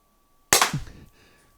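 A First Strike Roscoe launcher fires a single shot: one sharp, loud, close burst that snaps in after a moment of quiet and fades within about half a second, with no voices.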